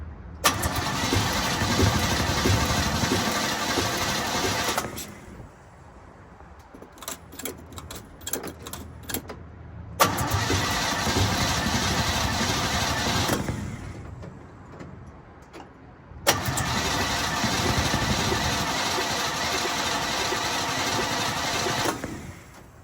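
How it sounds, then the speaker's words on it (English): A hot rod engine is cranked and fires three times, each start roaring into a loud, steady idle for several seconds, separated by quiet pauses with rapid clicking from the starter. "I think it's time to bump the key and see what happens."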